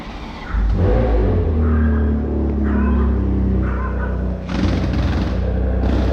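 A Ferrari F40 sports car engine revs loud and close in a steady, deep roar, with slight swells in pitch and a brief dip near the end, at a car dealership in Switzerland.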